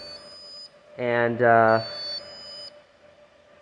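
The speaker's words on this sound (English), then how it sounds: "you could probably hear that buzzer go off quite a few times." An Arduino Uno–controlled buzzer at an entrance gate for indoor traffic control sounds as a steady high electronic tone in repeated bursts, with a brief spoken word in the middle.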